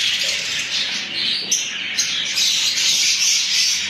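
Lovebirds in a breeding cage give harsh, repeated squawks and shrill calls, close and loud, with brief bursts of wing flapping between them.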